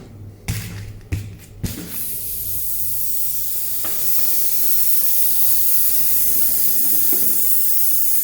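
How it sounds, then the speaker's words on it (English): Compressed air hissing steadily from a leaking fitting in pressurized fuel lines on a Toyota Supra Mk3 under a pressure test, after a few sharp bursts at the start, the hiss continuous and fairly loud. "Now we have a leak somewhere."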